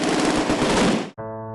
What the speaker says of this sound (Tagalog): Alingaw-ngaw ng pagputok ng baril, mga kapal na usok, naiwang bomba